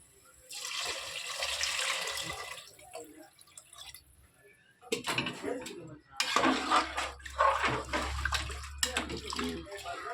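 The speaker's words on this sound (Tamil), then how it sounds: "அதுக்கு தேவையான அளவு தண்ணி ஊற்றிக்கலாம்" Water splashes and pours into a pot of sautéed ingredients for tomato rice in two bursts, with a hissing gush and clinking of cookware, separated by a brief quiet pause.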